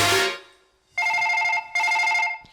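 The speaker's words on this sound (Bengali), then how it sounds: "এই সুযোগ আমি কেলের কাছে একটা ফোন করে নি" Phone ringback tone as a call is placed during a comic Bengali gajon folk play, two long electronic rings separated by a short pause, loud and clear with no talk.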